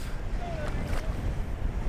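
Steady wind gusting over open sea water while kitesurfing, with a continuous broadband whoosh of wind noise on the microphone and faint surf beneath, no clear voices.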